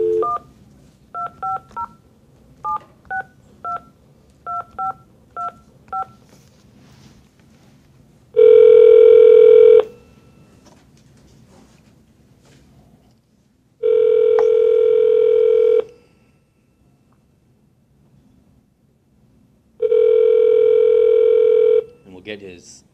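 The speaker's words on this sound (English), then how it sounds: "Let me just dial Mike in here." Telephone keypad dialing, a quick series of short touch-tone beeps, followed by three long, loud ringback tones separated by silences, heard close on the line.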